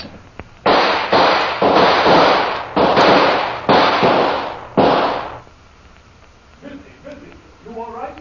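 Gunshots fired through a window, heard as a rapid volley of five or six loud, sharp cracks in close succession, followed by a quieter stretch where a voice begins speaking.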